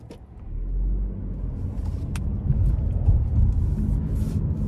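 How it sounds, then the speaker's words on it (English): A 2025 Chevy Trailblazer LS all-wheel drive with a 1.3 liter turbo three-cylinder engine driving on the road: steady low engine drone and road rumble from inside the cabin, swelling slightly, with a few faint clicks. "You kind of have to get used to the sound you get from the engine"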